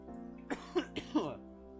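Four short, dry coughs come close together in a quick cluster, near and fairly quiet, with a soft throat-clearing quality.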